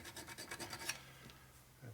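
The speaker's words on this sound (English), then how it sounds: "And so you're filing the dowel pin a little bit" A hand file rasping against a steel transmission dowel pin during a 1961 Harley-Davidson Sportster XLCH rebuild, a handful of quick close scraping strokes followed by a quieter pause.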